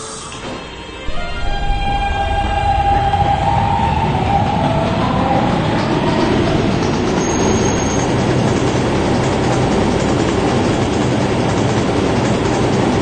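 A K subway train pulls away and runs on the rails toward Booth Street, rising from a quiet start into a loud, continuous rumble with wheel squeal and track noise, heard from on board.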